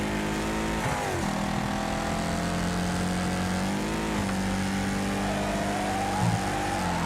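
Race cars in the video game Wreckfest drone along with continuous engine noise, and the pitch rises and falls as they accelerate and shift. The sound is steady and fairly loud, with no talk over it.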